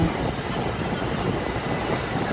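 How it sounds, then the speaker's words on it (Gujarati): A train leaving Borivali station in Mumbai runs along the tracks, a close, steady rumble with rhythmic clickety-clack from the wheels and no talking. "અમારી ગાડી એડવા મળી ધડન ધડન ધડન ધડન કરતી કરતી પોકી ગઈએ"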